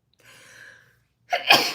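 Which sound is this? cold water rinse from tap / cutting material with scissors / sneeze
sneeze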